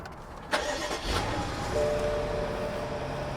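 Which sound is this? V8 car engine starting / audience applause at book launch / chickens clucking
V8 car engine starting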